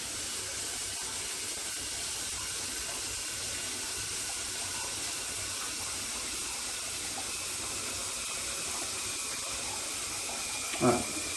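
A shower runs steadily indoors, a continuous broadband hiss of falling water that stays even throughout, with a brief knock near the end.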